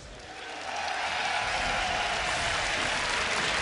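A large crowd at Gamescom, watching a League of Legends esports match, bursts into cheering and applause that swells quickly and holds as a loud, dense roar.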